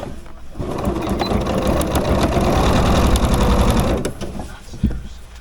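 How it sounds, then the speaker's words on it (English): A sewing machine whirs steadily while stitching a quilted sleeve onto a sweatshirt, close and fairly loud, building for several seconds then stopping, with a voice talking over parts of it. "Sew it right to your shirt."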